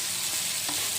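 Garlic frying with onions in a pan, a brief, even close sizzle with a soft stirring scrape, no voices.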